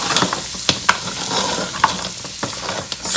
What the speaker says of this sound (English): you just want to add just a little bit of liquid and scrape the bottom